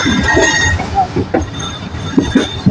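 Rumbling train noise with squealing wheel tones and irregular clunks as the carriage slows approaching Chaklala railway station in Pakistan, close and steady, no talking.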